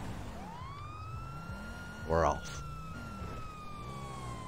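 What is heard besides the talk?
police car siren in GTA 5 video game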